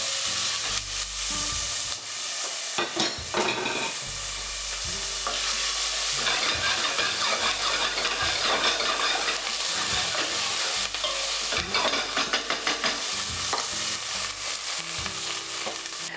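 Diced onions sweating in a pan over low heat for an Indian sauce, with a steady soft sizzle broken by repeated scraping stirs of a utensil against the pan.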